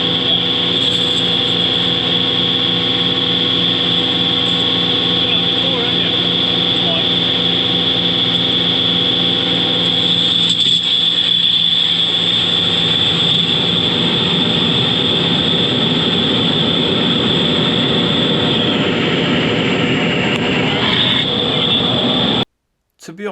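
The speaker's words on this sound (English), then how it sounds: "The next job was to jet the lines into this catch pit." A high-pressure drain jetter runs steadily while jetting drainage lines into a catch pit at a recycling centre, a loud continuous engine drone with a sustained high whine throughout, cutting out abruptly at the end.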